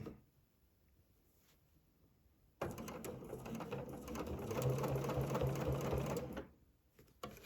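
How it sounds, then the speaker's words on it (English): Sewing machine stitching a placemat, a rapid mechanical whirr and chatter that starts abruptly, runs for about four seconds, and stops, in a quiet room. "stitch this back up again"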